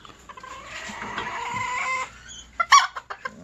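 Hens and a rooster cluck close by, including a tame young pullet: a steady run of soft overlapping clucks builds for about two seconds, then gives way to a few sharper, louder calls near the end.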